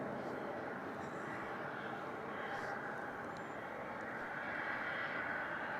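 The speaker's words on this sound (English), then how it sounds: "that's the last Qantas in from Sydney for the night" A Qantas airliner arriving from Sydney at Melbourne Airport at night gives a faint, distant, steady engine rumble that stays even across the whole stretch.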